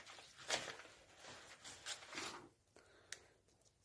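A few quick metallic snips and clicks of scissors being handled, close by, with brief bursts and a quieter pause between.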